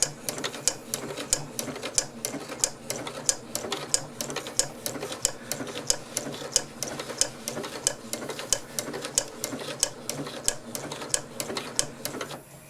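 A Janome 8077 sewing machine runs at full speed with its speed control set high, giving a steady, rapid stream of sharp mechanical clicks over a low motor hum, close and alone.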